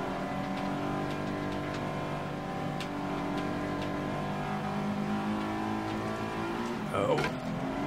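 Race car engine in the video game FlatOut Ultimate Carnage, loud and steady with rising and falling revs as the car drifts, a brief scrape or impact near the end, under excited commentary.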